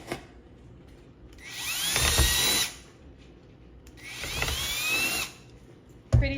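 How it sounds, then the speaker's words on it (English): A power drill with a 3/16 bit bores holes through the bottoms of stacked plastic cups, giving two loud whirring bursts of about two seconds each with quiet gaps between, then a brief start of a third. "My husband got a 3/16 drill bit, and he's going to do 3 holes in the bottom of these cups."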